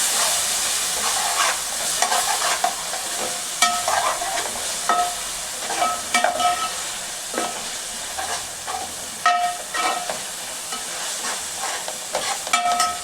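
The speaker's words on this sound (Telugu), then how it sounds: "అల్లం పేస్ట్ రెండు స్పూన్లు వేసుకోవాలి కంప్లీట్ చేసి బాగా కలుపుకోవాలండి" Onions and ginger paste fry in a pan under a steady loud sizzle, while a spoon stirs and scrapes repeatedly in an uneven rhythm.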